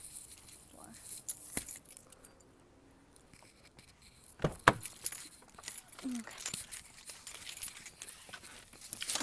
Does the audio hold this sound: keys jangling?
yes